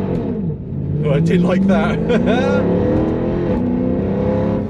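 A Mercedes W204 C63 AMG launches with wheel spin. A loud V8 roar climbs steadily, with squealing tyre chirps in the middle, and a man's brief exclamation is heard over it.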